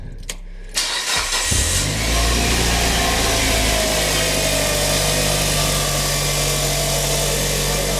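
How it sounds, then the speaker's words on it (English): A car engine cranks briefly, catches and settles into a steady, loud idle with a constant low hum and a higher whining tone above it, running on alone through the rest. "Start the car for a minute."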